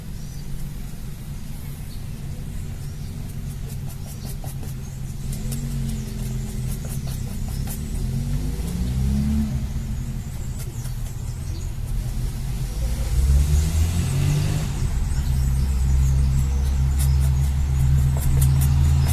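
Cars drive past on a nearby road, with a motorcycle among them, a continuous low rumble that swells louder toward the end with no one speaking.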